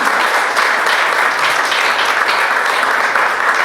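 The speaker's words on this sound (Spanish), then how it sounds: "Un aplauso para ella." A seated audience in a literary and cultural event hall gives steady, dense applause that fills the room evenly from start to finish.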